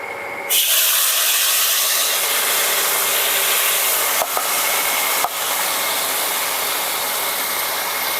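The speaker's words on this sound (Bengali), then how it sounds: "তেল হয়ে গেছে। আমি প্রথমেই দিয়ে দিচ্ছি মশলাগুলো।" Spices dropped into hot oil in a wok for a simple katla fish curry, giving a loud, steady broadband sizzle that starts abruptly and keeps going, with a couple of brief clicks partway through.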